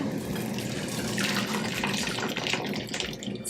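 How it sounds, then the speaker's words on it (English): Hot pasta water is poured from a pot through a strainer, a continuous close splashing gush of liquid lasting a few seconds with no talking over it. "we're gonna pour it through the strainer"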